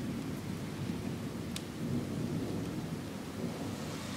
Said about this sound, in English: Oh, there was a lightning bolt.